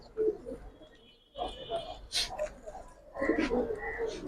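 Giribaz pigeons coo in a loose series of low, throaty calls at a pigeon sale, mixed with people talking nearby and occasional clatter.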